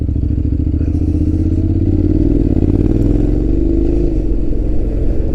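A Honda X-ADV 750 motorcycle pulls away with a loud, close engine drone that holds steady and then rises slightly in pitch as it gathers speed, with no talk over it.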